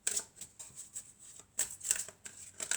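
Tarot cards being handled and drawn, soft papery slides and flicks in short irregular bursts, faint and close with quiet pauses between.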